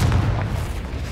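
A deep explosive boom from the Confringo fire spell in the game Hogwarts Legacy bursts at the start, then fades into a low rumbling tail over about a second.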